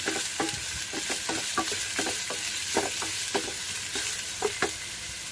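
Finely chopped onion, curry leaves and green chillies fry in a pan, a steady hiss with rhythmic spatula stirring strokes about twice a second, close and unaccompanied by voices.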